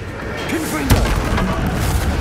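Confringo blasting spell in Hogwarts Legacy: a whooshing tone rises into one sharp, punchy blast, with a short rumbling tail over a constant background din.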